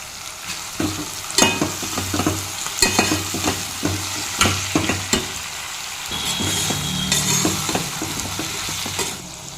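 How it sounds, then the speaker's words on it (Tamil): Brinjal (eggplant) pieces sizzle and sauté in hot oil, with repeated stirring scrapes and clinks of a spatula against the pan in an irregular rhythm. "நல்லா இந்த எண்ணெயிலே நல்லா வதக்கணும் கத்திரிக்காய்."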